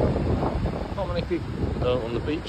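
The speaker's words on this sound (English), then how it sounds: "The sea's a bit choppy, it's a bit windy." Wind rushes over a beach beside a choppy sea on a cool, cloudy afternoon, a steady low buffeting roar under a voice talking close by.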